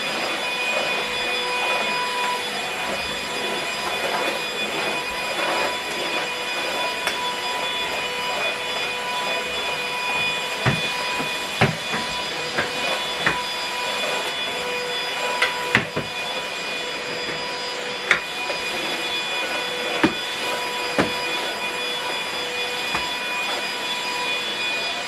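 A Goodmans 2-in-1 cordless vacuum cleaner runs continuously during a suction test, a steady loud whine and rush with occasional knocks and clicks as it picks things up, with no talking.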